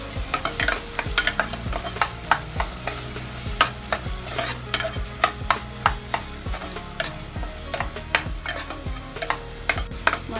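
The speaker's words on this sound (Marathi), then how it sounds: "हा माझा घरी केलेला गरम मसाला आहे तो मी दीड चमचा टाकतो व्यवस्थित हलवून घ्यायचा" A spoon stirs homemade garam masala into a village-style chicken gravy in a pan, giving repeated close scraping knocks over a low sizzle, with no talking.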